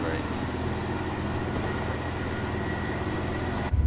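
A Class 185 Desiro diesel multiple unit running on the Liverpool–Manchester route via Chat Moss in a train simulator game, giving a steady, continuous engine and rail drone that holds evenly throughout.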